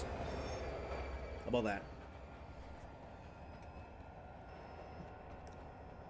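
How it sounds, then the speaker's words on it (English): A Union Pacific train hauling BNSF coke hoppers rolls past at Cajon Pass in Trainz Simulator 2, a low steady rumble with a brief sharp metallic screech, while people chat over it. "they're pulling a train of the BNSF Coke Hoppers"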